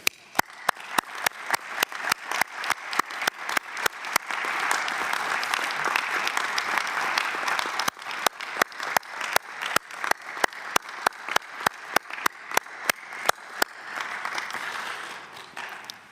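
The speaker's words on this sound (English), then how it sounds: "We want to thank you with a big round of applause and our very best wishes also to your wife and family." Audience at a UNIDO General Conference applauding, a sustained burst of many hands that swells into dense clapping, with sharp rhythmic claps pulsing through it before trailing off after about sixteen seconds.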